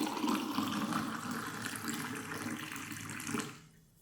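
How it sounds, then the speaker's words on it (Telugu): Hot water pours in a quiet, steady trickle into a glass of lemon juice and honey, splashing softly for a few seconds before stopping abruptly. "ఇప్పుడు ఈ హాట్ వాటర్ని ఇందులో మిక్స్ చేద్దాం."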